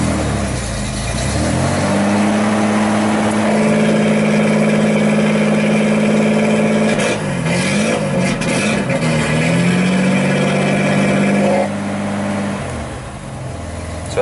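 A Datsun 280Z engine idles and rumbles loudly and steadily with its vacuum-operated exhaust dump valve opened by remote, the tone swelling briefly midway before settling and dropping off near the end, with no talking.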